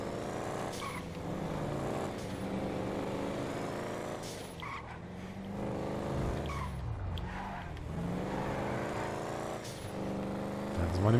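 Car driven in GTA V: a steady engine drone rises and falls through gear changes, with tire noise and occasional skids, moderately close. Someone talks over it in German.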